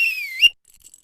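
A whistle blown to start a comedy improv game, a single bright sustained blast of about half a second that rises at the end and cuts off, followed by faint scattered noise.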